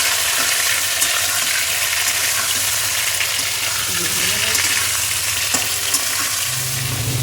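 Prawns fry in hot oil in a pan, a loud, dense sizzle that runs steadily throughout, broken by a few scraping stirs and clinks of a utensil.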